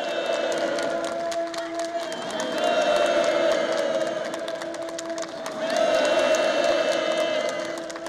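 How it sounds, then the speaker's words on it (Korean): Participants at an outdoor housewarming ceremony for new homes on a farm break into enthusiastic applause and cheering, a steady crowd roar that swells twice, with a sustained tone running beneath it. "살림집 이용 후가증이 참가자들의 열렬한 박수 속에 수여됐습니다"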